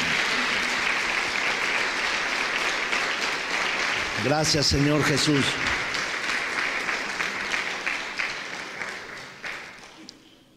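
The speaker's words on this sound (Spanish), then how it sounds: "Dale un aplauso fuerte al Señor." A church congregation applauding, a loud continuous wash of clapping from many people that slowly fades toward the end, with a voice briefly speaking over it in the middle.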